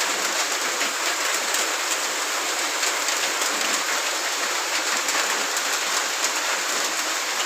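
Steady rain falls during a stormy morning in Laos, a dense, even hiss of drops on surfaces that continues unbroken throughout, close and fairly loud with no talking.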